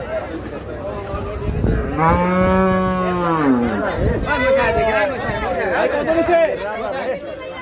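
A cow at a busy cattle market before Qurbani lets out a long, loud, close moo, followed by a second lowing call amid crowd chatter and voices.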